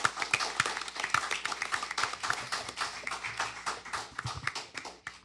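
Applause for a contestant at a junior science quiz, a smallish group clapping close by with individual hand claps clearly separated, brisk and uneven, fading somewhat toward the end.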